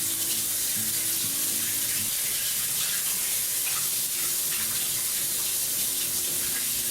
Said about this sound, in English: Now I'm going to go over here to the sink, and I'm going to wash my hands before I do the cutting out of the biscuits.